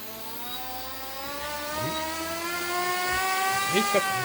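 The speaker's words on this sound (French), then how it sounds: "j'arme le moteur" The small electric motor of an Eachine E180 RC helicopter whines up steadily after arming, its pitch rising and holding as it spins, with a couple of brief clicks near the end.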